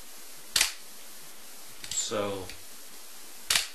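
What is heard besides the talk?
Pentax film camera shutter firing at fast speed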